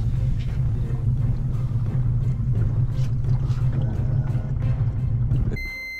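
Outboard motor drives a boat through shallow water, a steady low droning rumble that holds, then cuts out near the end as the engine is pulled up, leaving quiet with a faint tonal beep.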